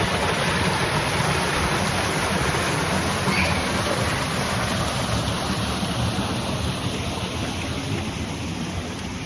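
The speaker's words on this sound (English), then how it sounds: "a deep lock, and the water coming through the lock gate there." Water rushes and roars steadily through a deep, overgrown canal lock gate, a dense, continuous close-up torrent with no voices.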